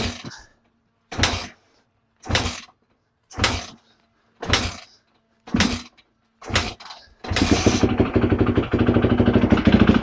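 A Yamaha YZ250F dirt bike with recent carburetor float trouble is kicked about six times, each a short sharp burst with silence between, before the engine fires and settles into a loud, steady, continuous running rumble.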